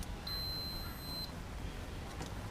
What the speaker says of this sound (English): I should be able to get a beep to the case.